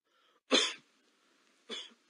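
Two heavy, chesty coughs come close and loud, each a short harsh burst, separated by about a second of near silence.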